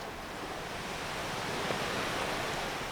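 Ocean surf rolls onto the shore at a seaside beach, a steady broad wash of breaking waves that swells slightly louder midway, with no voices.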